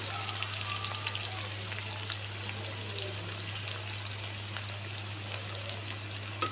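Chopped onion and garlic frying in hot oil give a steady, soft sizzle with faint crackles, continuous and even under a low constant hum.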